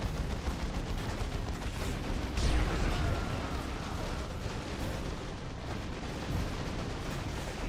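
Suppression gunfire in the Dawn of War 2: Retribution strategy game, a dense, continuous rattle of shots and booming impacts heard as a battle din, with a louder burst early on and faint voices mixed in.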